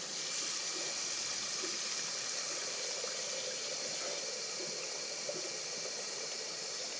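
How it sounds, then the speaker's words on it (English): Plain water pouring steadily into a pot of minestrone, a continuous even rushing stream from a tap, close and moderately loud, with no talking. "I'm going to add some more water to that"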